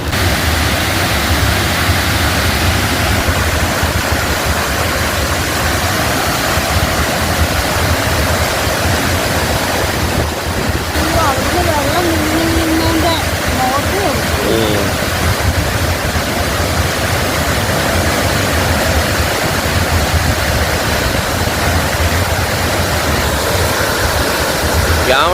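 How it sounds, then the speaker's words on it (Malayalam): Punnayar waterfall, also called Kochathirapilly, with water plunging from about 70 feet; a loud, steady broadband roar of falling water fills the whole stretch without a break. "ഏതാണ്ട് 70 അടിയോളം ഉയരത്തിൽ നിന്നാണ് ഈ വെള്ളം താഴോട്ട് പതിക്കുന്നത്."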